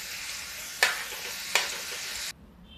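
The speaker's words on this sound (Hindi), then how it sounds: "चलिए इसको थोड़ा सा और भून लेते हैं।" Sweet corn fries with curry leaves and a little sugar in a pan, giving a steady close sizzle. Two sharp stirring scrapes break through before the sizzle cuts off abruptly.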